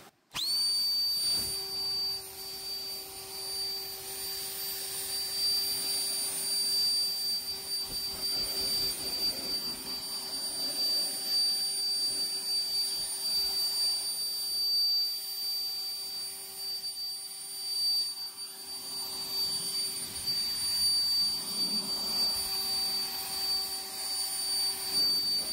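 A cordless pressure car washer runs continuously for about 25 seconds with a steady, high-pitched whine over a constant motor hum, loud and close with no talk.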